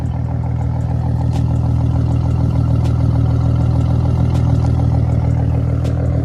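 A V6 Ford Mustang running with no mufflers and a loud aftermarket exhaust idles steadily and close by, a deep, even rumble with a faint rhythmic clatter and no voices.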